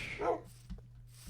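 A wolf in a Minecraft-style survival game gives a single short bark or yip, fairly quiet, followed by a faint thump over low background hum.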